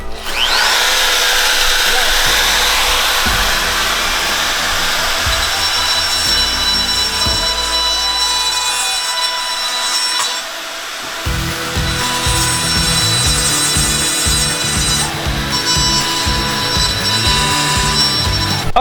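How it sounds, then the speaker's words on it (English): A power grinder works on a Honda Civic turbo manifold, its steady whining drone and rough metal scraping running nearly continuously, loud and close, dipping briefly partway through before resuming. "he's done grinding it down now. He did a really good job grinding it in my manifold"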